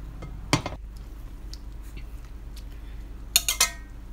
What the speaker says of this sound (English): I just gonna transfer this to a baking dish